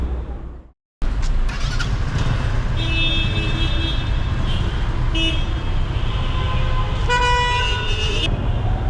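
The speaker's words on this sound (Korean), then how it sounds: "그 빵빵거리는 거 그 재미로 빵빵거리는 거 같아" Car horns toot repeatedly in busy city street traffic in Egypt, loud, close honks in short bursts and longer blasts over a constant roar of engines and road noise.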